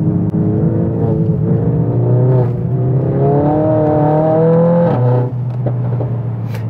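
A 525 PS Mercedes-AMG A 45 S engine revs hard while drifting, a loud close rising and falling drone that climbs in pitch, dips, and then climbs again, with a brief shift-like drop near the end.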